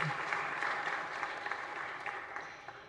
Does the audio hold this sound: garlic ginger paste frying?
no